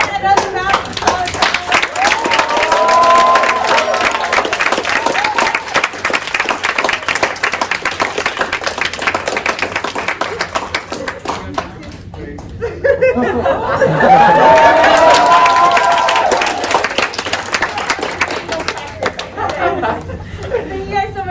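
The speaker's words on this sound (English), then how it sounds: "Can you get another round of applause?" Sustained applause and chatter from a live audience at a winter show, steady clapping with murmuring voices and scattered laughter, swelling again after a brief dip midway.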